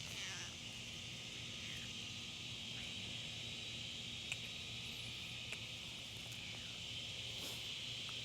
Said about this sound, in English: I apologize if you can hear the cicada noise in the background